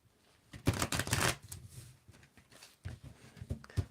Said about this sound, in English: And I want you to tell me when to stop shuffling, Torio.